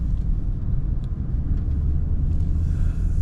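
A 1997 Toyota Mark II Grande JZX100 with naturally aspirated engine and automatic transmission moving on a test drive, giving a steady low rumble of engine and road noise from inside the cabin, smooth and continuous with no talk.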